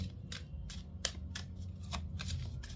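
Crisp, papery riffling sounds repeat in short bursts as tarot cards are shuffled close by, quiet and rhythmic with no talking.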